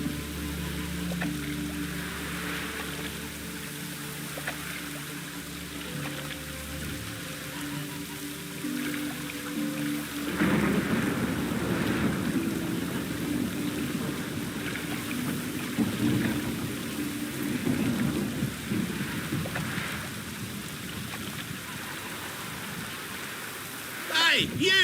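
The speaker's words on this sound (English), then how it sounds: "Even the rain smells like piss in this town." Rain and thunder in The Witcher 3 video game: a steady wash of rainfall with low rolling thunder rumbles that swell partway through, heard alone without talk.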